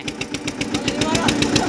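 An Eicher 242 tractor engine runs with a rapid, regular diesel chugging pulse, close and steady across the whole stretch.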